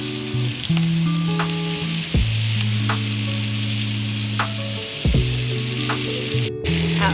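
New York strip steaks sizzling loudly in a hot pan just after being flipped, a steady close frying hiss with occasional crackles and scraping clicks, no voices.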